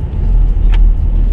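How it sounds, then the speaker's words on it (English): A logging truck loaded with logs rolls down the road, a deep, continuous engine and tire rumble close by with a brief higher hiss in the middle. "there's a tree truck going down the road there carrying trees, logs"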